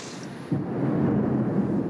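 Loud, deep thunder from a violent night thunderstorm with rain over Nîmes in southern France breaks in abruptly after a short quiet moment and keeps rumbling steadily, with no voices.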